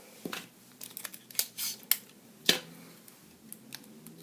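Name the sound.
tape being applied to a wire sculpture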